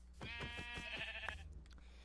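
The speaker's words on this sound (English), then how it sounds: "I just saw a sheep spawn." A sheep in Minecraft bleats in a short wavering cry, loud and close, with a brief quiet game-world background.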